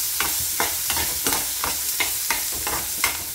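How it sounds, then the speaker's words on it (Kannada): Finely chopped onions frying in hot oil in a kadai, a close, steady sizzle broken by regular, rhythmic stirring strokes roughly twice a second. "ಎಣ್ಣೆ ಕಾದ ಬಳಿಕ ಒಂದು ಕಟ್ ಮಾಡಿರುವ ಚಿಕ್ಕದಾಗಿ ಕಟ್ ಮಾಡಿ ಈರುಳ್ಳಿಯನ್ನು ಹಾಕಿ ಫ್ರೈ ಮಾಡಿ ಚೆನ್ನಾಗಿ"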